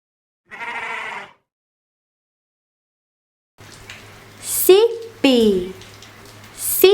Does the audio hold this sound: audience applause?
no